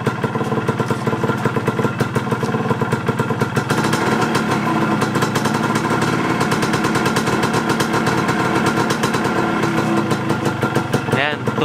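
A Yamaha DT125 motorcycle engine revved to about 2000 RPM, a continuous loud, rapid two-stroke buzz held steady up close for over ten seconds with no pauses.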